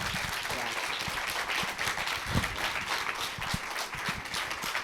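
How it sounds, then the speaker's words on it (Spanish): Steady applause from an audience at a public talk on cinema, a dense wash of clapping holding at an even level for the full few seconds. "Me voy a permitir pedirles un aplauso para Carmen Castillo"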